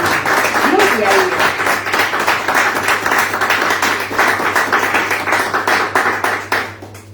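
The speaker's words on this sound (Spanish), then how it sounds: "Denle un fuerte aplauso." A church congregation applauding, a dense sustained burst of many hands clapping with a low hum beneath and voices mixed in, tapering off at the end.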